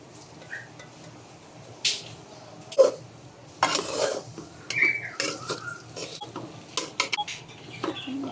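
Spoon mixing a beetroot chop mixture with gram flour in a bowl, giving scattered scraping and clinking strokes of uneven loudness, close by and without talk.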